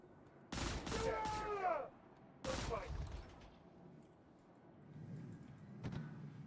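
Bursts of automatic gunfire in the space game Star Citizen, two short loud volleys a second or so apart, followed by quieter background rumble and a faint single report near the end.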